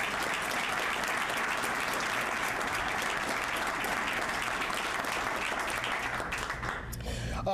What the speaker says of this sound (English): So please give Sheriff Cousins a round of applause for all that he did to start this